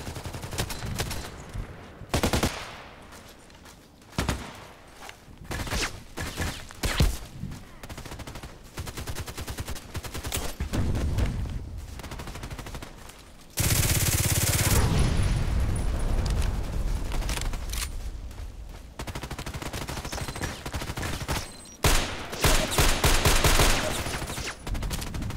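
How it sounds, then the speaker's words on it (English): Gunfire in a first-person shooter played with a DT-SRS sniper rifle, dense bursts of rapid shots and automatic fire with loud booming blasts, an intense sustained barrage in the middle, close and loud with no talking. "Shooting through everything."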